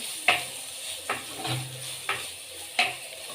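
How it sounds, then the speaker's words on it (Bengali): Fish stirred in hot oil in a kadai for fish chop, steady sizzle with four sharp utensil scrapes and clinks spaced about a second apart, close and moderately loud. "এবারে এই মাছটাকে আমি এতে দিয়ে দেব কড়াইয়ের মধ্যে।"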